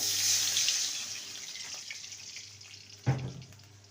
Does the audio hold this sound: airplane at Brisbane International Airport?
no